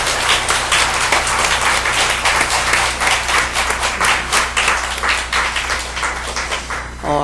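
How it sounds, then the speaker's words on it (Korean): A church congregation claps in thanks for its teachers, a dense, loud, rhythmic burst of many hands sustained throughout, with a low steady hum underneath and a brief tone at the very end. "우리 박수로 고맙다라고 우리 축복하도록 하겠습니다."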